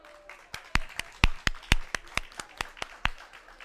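Sparse, evenly spaced hand claps from a small live audience welcoming a guest, a dozen or so crisp, fairly close claps with no crowd swell.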